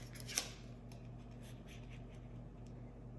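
A napkin is being cut with scissors for a Mod Podge platter, giving one quiet snip near the start followed by faint rustling, close by in a hushed room.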